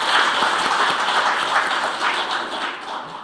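Attendees at a veterans' compensation policy forum applaud a lawmaker, a steady, moderately loud round of clapping from a room-sized audience that fades a little near the end.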